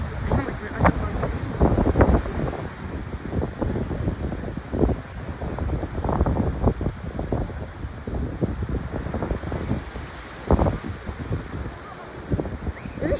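Choppy ocean water churns where a river flows into the sea, with heavy wind buffeting the microphone. A steady, loud roar is broken by irregular splashes and surges throughout.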